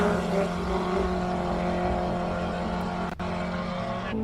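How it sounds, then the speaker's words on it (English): A race car at a hillclimb runs its engine with a rough, steady drone and uneven tone, as if missing gears, heard at a distance with a brief dip near the end. "sound like missing a whole bunch of gears from Anton Grenier."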